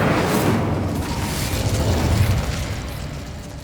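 A fire spell effect from the video game Hogwarts Legacy on PS5: a loud, sustained roaring whoosh of flames with a deep rumbling low end, steady for several seconds and slowly easing off, with no voices.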